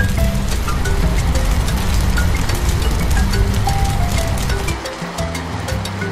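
Cartoon fire truck hose spraying water onto a fire: a dense, hissing splash of water that runs steadily under a looping music track, briefly thinning near the end.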